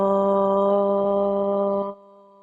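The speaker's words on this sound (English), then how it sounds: "I'm going to offer the sound of Om one time to begin our practice." A lone voice chants a long, resonant Om on one steady pitch, close and clear, fading out at the end.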